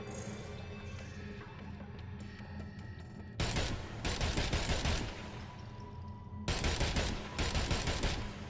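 Dense bursts of rapid gunfire in the action video game Agents of Mayhem, two loud sustained volleys following a quieter stretch of background game sound.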